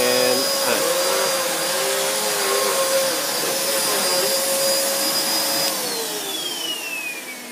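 A Hoover Nano Lite vacuum cleaner runs with a loud, steady motor whine and airy roar, its pitch dipping slightly and winding down toward the end.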